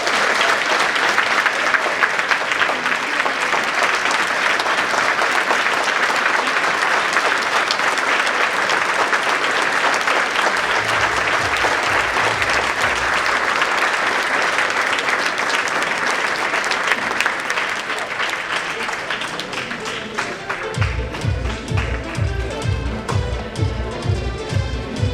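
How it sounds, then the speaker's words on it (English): Sustained audience applause after a speech at an HBCU event, a dense, steady roar of clapping hands lasting about 25 seconds, with some low rhythmic thumps toward the end. "Please, let's give him another round of applause."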